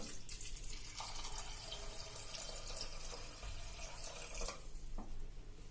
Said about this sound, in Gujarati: હવે આ દાળ ડૂબે ને એટલું આપણે પાણી નાખી દેશું